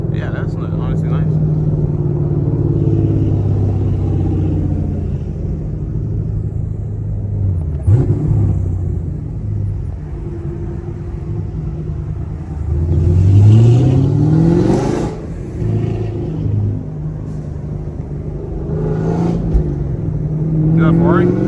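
Manual Chevrolet Camaro SS 1LE with a V8 engine cruising through the city at midday, a steady low engine rumble with a couple of swelling throttle pulls, heard from inside the car while people talk over it.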